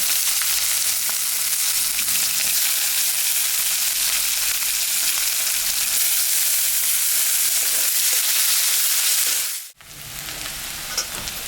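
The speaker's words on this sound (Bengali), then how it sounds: "এখানে কুচনো পেঁয়াজ আছে, এটা আমি দিয়ে দিলাম" Chopped onion frying in hot oil with dried red chilli and cumin, a loud, dense, continuous sizzle close by that cuts off abruptly near the end and then resumes, with no talking.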